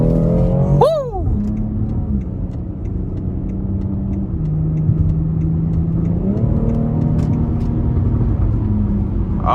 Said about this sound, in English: you even have the backfire and the exhaust on this X3